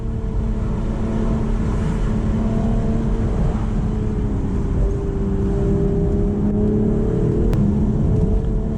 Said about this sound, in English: I hope you can hear me over this wind noise.